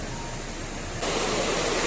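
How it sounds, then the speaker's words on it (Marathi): A small waterfall beside a forest road makes a steady broadband rush of flowing water that grows a little louder partway through, with no voices. "रस्त्याच्या बरोबर खाली इथे वॉटरफॉल आहे आणि या साईडला पण जंगल आहे."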